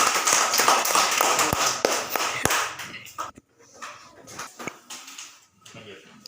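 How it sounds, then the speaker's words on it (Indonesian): Children in a classroom clap for a student group, a dense burst of close, loud applause with sharp individual claps, fading after about three seconds into scattered taps, murmuring and voices. "Tepuk tangan saya buat kelompok 2."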